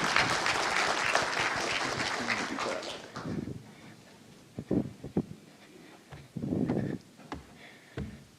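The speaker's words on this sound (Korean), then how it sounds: "따뜻한 박수로 맞아주시면 감사하겠습니다." A conference-hall audience at an East Asian railway community forum's founding seminar gives dense, steady applause to welcome a presenter, then it thins into scattered claps and a few louder bursts.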